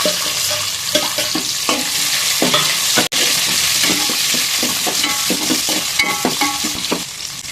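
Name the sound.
onion and curry leaves frying in oil for methi dal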